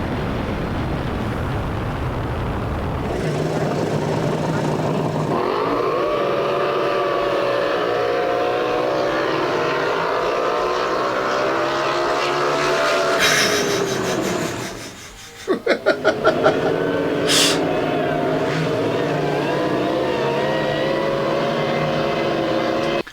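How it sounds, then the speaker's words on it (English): Bullet racing boats with 10,000-horsepower engines roar across the water in a loud, continuous, high-revving blare that climbs in pitch, then briefly drops out before a stuttering burst and a return to full roar. "They are hauling arse across that water."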